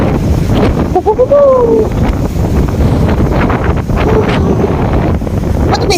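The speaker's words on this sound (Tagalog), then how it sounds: "Super windy." Strong wind in Wellington roars and buffets the microphone continuously while a person gives a brief exclamation and speaks over the gusts.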